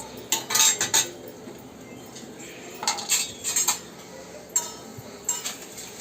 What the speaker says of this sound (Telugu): ఫస్ట్ కొద్దిగా నెయ్యి వేసుకొని కాజు వేసుకోవాలి